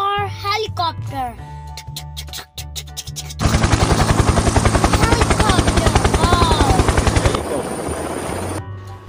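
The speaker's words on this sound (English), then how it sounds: "H for helicopter." Helicopter rotor chopping loudly in a fast, steady pulse for about four seconds, preceded by a child's speech and backing music.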